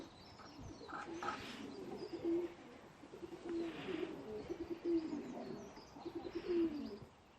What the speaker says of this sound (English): all the pigeons sitting waiting patiently for the breakfasts, sunning themselves in the aviaries.